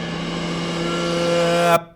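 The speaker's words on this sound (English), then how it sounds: "a riser or something that goes like" A steady, swelling riser tone builds in loudness for under two seconds, then cuts off abruptly into silence.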